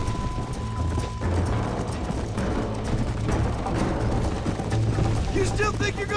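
A horse galloping in Red Dead Redemption, rapid rhythmic hoofbeats running loud and close throughout, layered with game music and effects, while a voice talks near the end.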